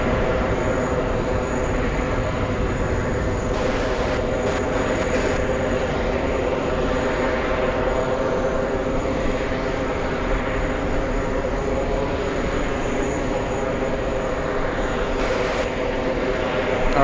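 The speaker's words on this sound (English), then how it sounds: "We have a big American Airlines 777 taking off right now" An American Airlines Boeing 777 taking off at JFK produces a continuous loud, roaring jet rumble with a droning engine tone held steady throughout, with a few faint ticks on top.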